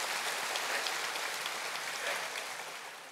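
A congregation at a Catholic episcopal ordination Mass for Bishop Dominic Nguyễn Tuấn Anh claps together in a dense, steady wash of applause, heard from a distance and fairly faint, easing off slightly toward the end with no voices over it.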